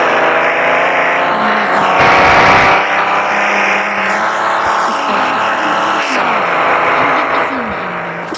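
Starter car in a video game, its engine droning steadily with rising and falling revs throughout, close and loud, while a person talks over it.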